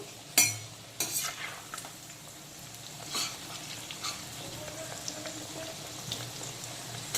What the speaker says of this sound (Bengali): পেঁপেগুলোও হালকা করে ভেজে নিয়েছি, পেঁপেগুলোকে তেল থেকে তুলে নেব